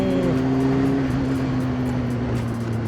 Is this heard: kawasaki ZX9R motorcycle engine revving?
yes